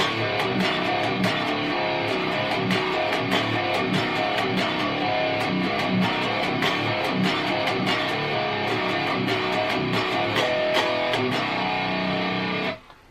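Heavily distorted electric guitar plays a riff slowly using fifth power chords, with dense, saturated chugging and regular palm-muted accents; loud and close, alone without talk, ending abruptly.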